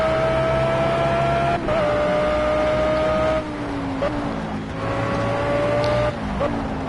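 A race car in Project Cars sliding through corners, a loud steady engine whine with shifting pitch, tyres squealing and scrubbing as the revs drop and rise, continuous and close throughout.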